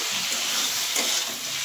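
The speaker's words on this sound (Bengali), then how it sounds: "এবার দিয়ে দিচ্ছি 1 চামচ জিরে গুঁড়ো, 1 চামচ ধনে গুঁড়ো, 1 চামচ কাশ্মীরি লঙ্কা গুঁড়ো" Ground cumin, coriander and Kashmiri chili powder frying in a pan, a continuous bright sizzle with a brief surge of crackling midway, close and steady.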